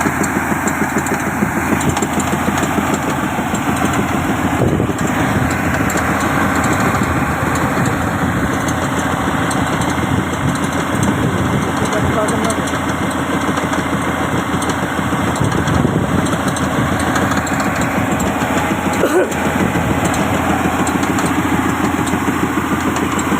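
A combine harvester engine runs steadily while cutting wheat in a field in Pakistan, a loud continuous mechanical drone with rattling machinery throughout, no speech.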